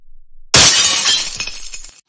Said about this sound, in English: now you smashed my iPhone SE2